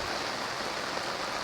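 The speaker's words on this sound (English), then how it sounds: "It's not like just a regular rainy day, you know, people. It's a storm." Heavy rain during a tropical storm pours down in a dense, even hiss, steady and fairly faint with no voices.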